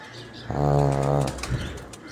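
A single low, throaty coo from breeder pigeons on a rooftop rises clearly for under a second, followed by quieter rustling and faint bird sounds nearby.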